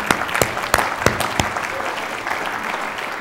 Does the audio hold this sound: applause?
yes